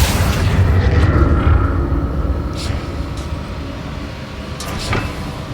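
Accio summoning spell cast in the video game Hogwarts Legacy, a loud rushing whoosh with a heavy low rumble that slowly fades, followed by a couple of light swishes.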